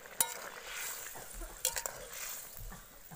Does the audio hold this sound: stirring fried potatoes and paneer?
yes